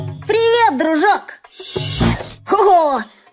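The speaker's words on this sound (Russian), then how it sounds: "И автобус рассказал Биби, как он начал чихать на дороге" A cartoon bus sneezes: a voiced, broadband burst like a voice acting out a sneeze, set between stretches of expressive character voice in an animated show about cars and a repair shop.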